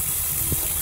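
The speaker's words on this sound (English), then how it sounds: "Right now I just got the water going into a 5-gallon bucket" Water from a newly plumbed outdoor sink runs steadily into a 5-gallon bucket, a continuous close hiss and gush with no voices.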